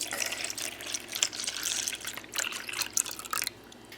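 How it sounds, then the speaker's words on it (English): Two cups of milk poured into a mixing bowl of whisked wet ingredients for funnel cake batter, a close, uneven splashing trickle that stops near the end, with no voices. "Now I'm going to put in 2 cups of milk."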